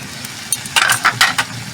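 Shrimp broth poured into a hot cooking pan, giving a short burst of sizzling and splashing in a few uneven spurts, close and fairly loud, with no talking.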